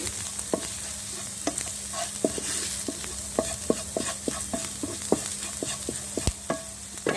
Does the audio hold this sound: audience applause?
no